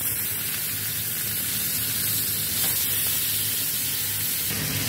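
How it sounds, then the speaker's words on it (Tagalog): A tortilla wrap with braised chicken fries in a pan, giving a steady, even sizzle that holds close and constant throughout with no talking. "Prituhin na natin."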